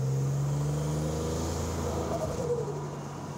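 A heavily modified 1987 Buick Grand National engine accelerates hard nearby, its deep droning tone rising in pitch before easing off and fading slightly toward the end.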